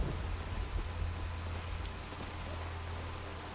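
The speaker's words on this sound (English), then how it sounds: "It's raining." Steady rain in the video game Skyrim falls and patters on surfaces, a continuous wash of sound with a low rumble beneath, no voices.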